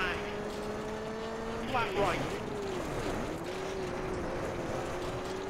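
A Skoda Fabia rally car engine in the Richard Burns Rally game, revving with steady harmonic tones that sweep through a gear change midway; a voice calls pace notes over the engine.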